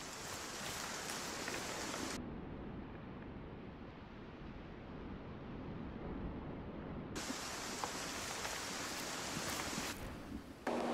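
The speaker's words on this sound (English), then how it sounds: "the heavy rain, which is honestly just perfect in this game" Heavy rain pours steadily in the hunting game Way of the Hunter, a dense continuous hiss that swells brighter and fuller at the start and end and dulls to a muffled roar in the middle.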